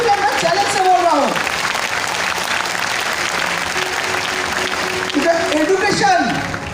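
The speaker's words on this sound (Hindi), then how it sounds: "जोरदार हाथ ताली, क्योंकि मैं चैलेंज से बोल रहा हूं।" Loud, sustained clapping from a training-session audience fills the room, with a speaker's voice heard over it at the beginning and again toward the end.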